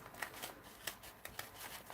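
Scissors snip through a paper doll banner with a dirndl dress cutout, a quick run of faint, close crisp cuts at an uneven rhythm.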